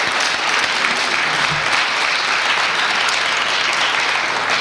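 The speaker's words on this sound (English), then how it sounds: "Just another quick round of applause for our speakers." Sustained applause from an audience at a criminal justice talk event, steady dense clapping filling the room throughout with no voices over it.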